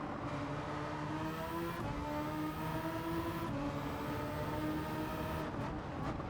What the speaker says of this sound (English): Braking here into third.